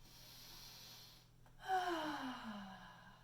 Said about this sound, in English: Take a big breath in.